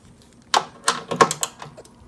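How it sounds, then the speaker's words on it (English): A 10 millimeter socket wrench ratcheting caps off a riding mower deck, heard as a quick run of sharp, close clicks and clatters with no talk. "we're gonna remove these with a 10 millimeter socket wrench"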